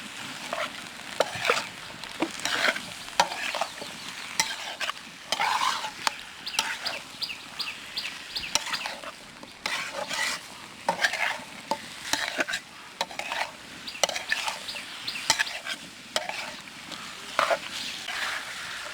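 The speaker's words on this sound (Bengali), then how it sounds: "আমরা মাংসটাকে অনেক সুন্দর করে কষিয়ে নিচ্ছি" Meat coated in turmeric is sautéed at a village picnic, stirred repeatedly with scraping strokes over a continuous sizzle. The stirring is close and rhythmic, and faint bird-like clucks can be heard in the background.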